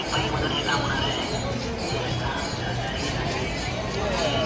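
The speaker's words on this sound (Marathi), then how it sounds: "हे पहा, नदीपात्राला इथं खूप गर्दी आहे" Pilgrims crowd a riverbank for bathing, forming a dense, steady hubbub of distant voices and babble with no single speaker standing out.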